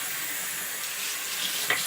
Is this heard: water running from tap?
yes